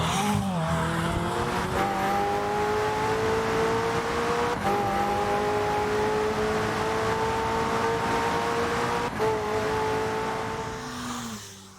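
McLaren Senna supercar engine recorded on a wet track for Forza Horizon 4, droning loudly and steadily at close range as the revs climb gradually, with a brief gearshift dip near the end as the car eases off.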